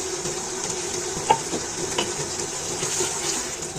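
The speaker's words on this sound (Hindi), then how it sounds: "अब मैं इसको मज़ीद 4-5 मिनट भून लूँगी" Tinda curry with green chilies is fried in a pan and stirred, giving a soft continuous sizzle broken by a few sharp utensil scrapes and clinks against the pot, close and fairly loud, with no talking.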